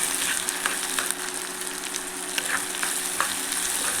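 Onion frying in a hot pan, a steady close sizzle with soft stirring scrapes throughout, no voices.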